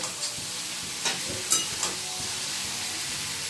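Potatoes fry in a pan over a high flame with a steady, dense sizzle throughout, broken by a few brief scraping stirs and clinks, close and fairly loud with no talking.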